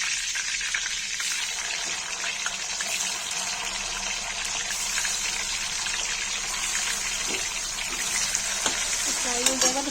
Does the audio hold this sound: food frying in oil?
yes